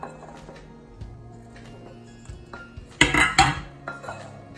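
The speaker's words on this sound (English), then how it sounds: "now I'm going to add the cauliflower into the mixture" Cauliflower pieces tipped into a bowl of batter for crunchy cauliflower popcorn, giving a short burst of clattering and clinking against the bowl midway through, set among quiet kitchen handling noise.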